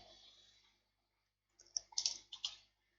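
A handful of crisp computer mouse clicks, close and quiet, arriving in a quick irregular cluster after a brief soft rustle and a pause of near silence.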